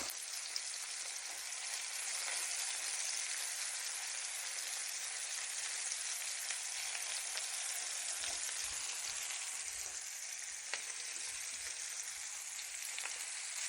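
Spaced-out beef meatballs for an Algerian-style dish brown in a frying pan over rising heat, with a soft, even hiss and crackle that runs throughout. A few faint tapping spikes sit on top of it.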